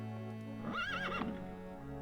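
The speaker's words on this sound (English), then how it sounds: "I remember that's what the pack horse is." A pack horse in the Warcraft III video game gives one clear whinny lasting about half a second, rising and falling in pitch, over a steady game background hum.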